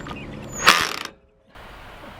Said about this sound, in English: This self-tapping screw takes some torque to drive.